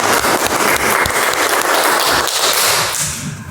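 A classroom of students claps loudly and briskly, dense sharp hand claps close by that thin out slightly toward the end.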